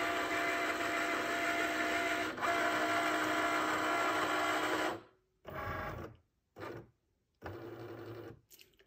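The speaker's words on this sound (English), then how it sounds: "what the Cricut is doing right now is it is reading those grid lines along the outside" A Cricut cutting machine whirs and buzzes as it scans print-then-cut registration lines on a sheet, a steady motorized drone for five seconds, then short start-stop bursts of movement separated by silence.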